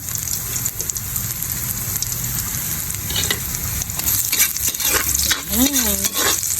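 Ginger sizzles steadily in hot oil in a pan with garlic, being sautéed as the base for a Filipino mussel dish; a continuous close frying hiss runs throughout with occasional stirring scrapes and a brief whooshing sweep near the end.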